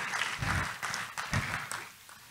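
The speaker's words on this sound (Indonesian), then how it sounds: "Tepuk tangan dulu dong buat Tuhan Yesus." A church congregation claps for Jesus during a sermon, a moderate burst of applause with uneven swells that fades out toward the end.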